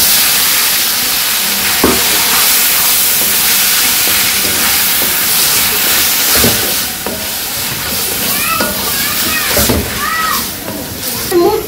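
Leafy greens hit a hot pan in a Bangladeshi village kitchen, a loud sustained sizzling hiss with splattering bursts and sloshing stirs, while a person talks nearby and birds chirp faintly.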